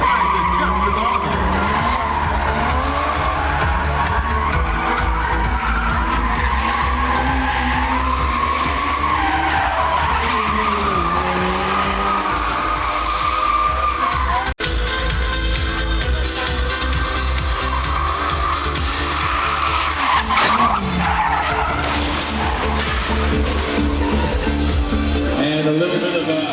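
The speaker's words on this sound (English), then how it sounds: "It's another thing entirely to drift around the car that's moving." Cars drift at a street show at Quirino Grandstand in Manila, with long, loud tire squeals and skidding howls rising and falling continuously over engine revs, one car circling another while it moves.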